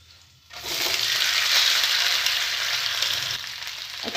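After a quiet moment, semolina balls drop into hot oil with garam masala and turmeric and erupt into a loud, dense sizzle that holds steady and close, fading slightly toward the end.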